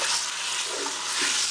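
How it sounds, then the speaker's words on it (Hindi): Beef fries with ginger garlic paste in a pot for masala pulao, making a steady, dense, close hiss of sizzling with a slight swell near the end. "बीफ हमने तब तक इसे भूनना है, इसे फ्राई करना है जब तक कि इसका कलर चेंज ना हो जाए"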